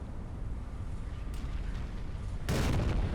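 Naval gunfire from a battleship in the video game Battleship Command, with a low rumbling bed and a heavy, broadband boom arriving near the end, moderately loud and fairly close.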